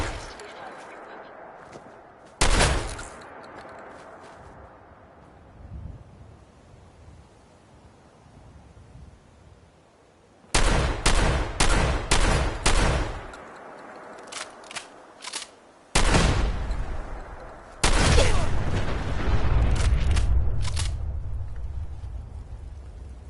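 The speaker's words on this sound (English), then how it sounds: "Is this really the best place to be firing your weapon?" Weapon fire in the Fallout game, set in the Capital Wasteland: loud bursts of shots, one alone, then a rapid run of several, then more volleys, with quiet wind-like ambience between them.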